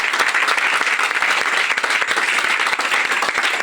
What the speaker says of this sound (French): Applaudissons pour la parole de Dieu. Applaudissez bien.